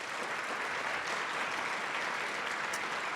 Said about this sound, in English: I also want to give a round of applause to for all of their help with this